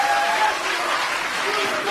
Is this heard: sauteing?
no